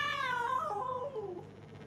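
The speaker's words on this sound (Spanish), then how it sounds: "Un gatito." Cat meowing in the video game Gori: Cuddly Carnage, one drawn-out, falling, wailing meow, clear and fairly close, with faint background hum.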